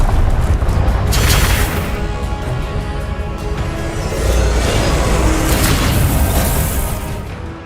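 Confringo explosive spell blasts in the Hogwarts Legacy video game, a loud sustained roar of booming bursts with rumbling low end and crackling debris, swelling around the middle and end with no talking.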